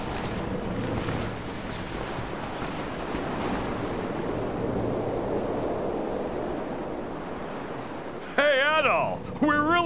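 Sea waves wash steadily around a sailing ship in the video game Ys: The Ark of Napishtim, a constant, full rush of surf and wind, with a brief warbling tonal cry near the end.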